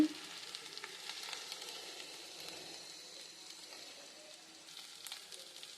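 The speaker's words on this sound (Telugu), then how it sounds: "రొయ్యలు అనేవి హాఫ్ బాయిల్డ్ ఉడికిపోయినాయి ఇప్పుడు మనకి ఈ మసాలాతో పాటు వేగితే సరిపోతుంది" Half-boiled prawns frying with masala and chili powder in a pan, a continuous soft hissing sizzle at close range with faint stirring, no talking.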